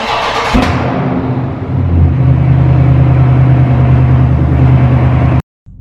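A 2019 Dodge Charger 392 Scat Pack engine revving loudly up close, a deep rumbling roar that builds and holds steady for several seconds before cutting off abruptly.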